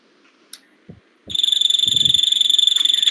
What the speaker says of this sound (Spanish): Aquí un ejemplo de un sapo del género Rhinella vocalizando.